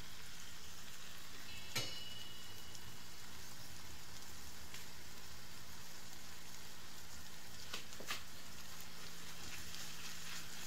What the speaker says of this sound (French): on vient rajouter nos œufs, puis on mélange afin d'obtenir des œufs brouillés.